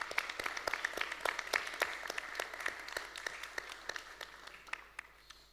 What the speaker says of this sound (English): Can we please have a huge round of applause for all of them?